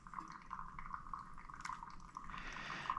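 A small measure of water poured over coffee grounds in a pour-over brewer drains through, giving soft trickling and dripping with faint repeated tones and a slight rise in splashing near the end, quiet and close.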